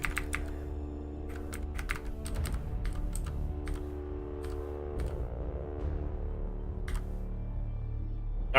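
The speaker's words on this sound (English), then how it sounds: "Okay, I can just use the keyboard." Clicking of a computer keyboard during PC gameplay of XCOM 2, irregular bursts of sharp keystrokes close up, some in quick clusters and others spaced apart, over a steady low background hum.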